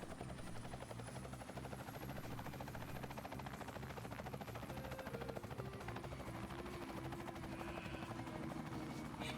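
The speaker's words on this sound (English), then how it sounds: "I've got the helicopter all fueled up and ready to go." A helicopter in the video game Ty the Tasmanian Tiger 2 drones steadily throughout, a continuous dense rotor buzz with a rhythmic chop and a thin high whine above it, with no talking.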